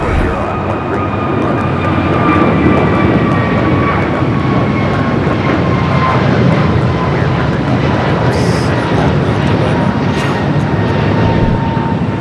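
A jet airliner arriving from Paris touches down on runway 25 left at Los Angeles LAX, its engines giving a steady, loud broadband roar with a faint whine that lasts throughout, heard from a hotel rooftop vantage.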